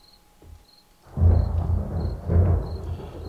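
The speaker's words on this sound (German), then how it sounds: "Ja, wie das klingt Gewitter" Thunder rumbles through a storm in the survival video game 7 Days to Die, a deep boom rolling in after a second of quiet with crickets chirping, then swelling again in a second loud roll.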